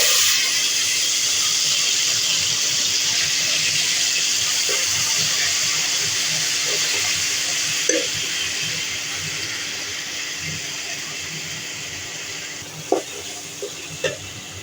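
A spice paste of ginger, green and dried chilli, cumin, whole garam masala and black pepper hisses and sizzles steadily in a pan for Kashmiri aloo dum, with a few sharp pops and clinks near the end.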